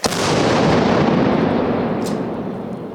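A single heavy blast from a Melara howitzer booms nearby, then a long rumbling roar slowly fades over a few seconds.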